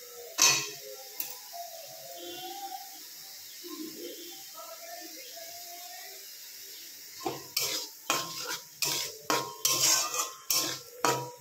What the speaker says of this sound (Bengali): দিয়ে আবার একটু নাড়িয়ে নেব।